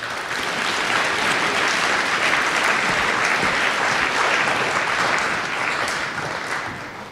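Sustained audience applause at a high school Veterans Day program, a dense, even roar of many hands clapping that stays loud throughout before easing slightly at the end.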